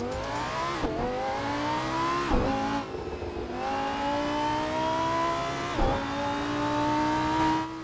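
A Lamborghini Huracan Performance in Assetto Corsa, driven on the Road Atlanta circuit, roars loudly and close, climbing in pitch through each gear with several sharp upshifts.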